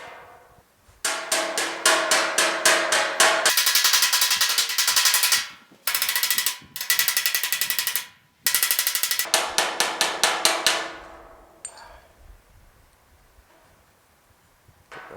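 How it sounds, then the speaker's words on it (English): Rapid, loud hammer taps on a GTO's metal filler panel ring out in dense bursts, separated by brief pauses, then trail off into quieter scattered taps near the end. "I'm going to tap with the hammer right on there"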